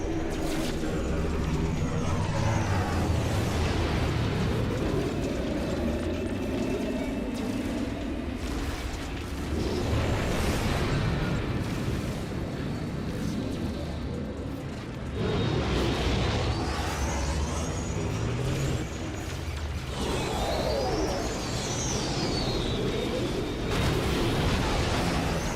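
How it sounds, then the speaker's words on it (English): Missile explosions in the space game No Man's Sky boom heavily and continuously, a dense, loud wash of blasts and rumbling with sweeping synthetic tones and no voices. "Enemy missile inbound."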